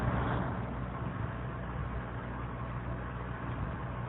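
Steady, muffled engine drone from a Renault Clio cruising in fifth gear at around 65-70 km/h, heard from inside the car as an even, continuous hum with no talking.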